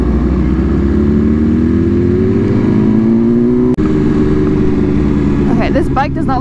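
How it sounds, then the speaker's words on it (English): Motorcycle engine labouring in first gear at about 29 mph, a loud steady drone that rises slowly in pitch, with a brief dropout near the middle and voice-like chatter over the end. "this bike does not like being in first gear going 29 miles an hour"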